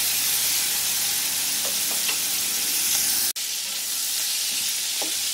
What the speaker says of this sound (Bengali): এখন চিংড়ি মাছগুলোকে খুব হালকা করে ভেজে নেব।